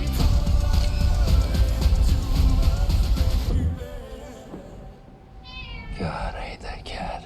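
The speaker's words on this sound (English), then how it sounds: "God, I hate that cat." A cat meows in a scene from the movie Argylle, with a short, rising call heard after a loud stretch of music and sound effects, while whispered voices are also present.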